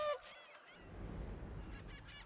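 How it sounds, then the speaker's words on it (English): Seagulls call in the video game Yoku's Island Express, a faint cluster of squawks at the start that fades into soft game ambience and low rumble. "I hear the seagulls."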